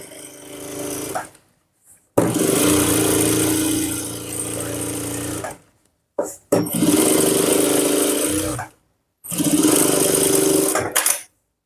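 A sewing machine stitches a men's shirt collar in three long runs, loud and close, with a steady motor whir. Short pauses separate the runs, and a few faint handling sounds fall between them.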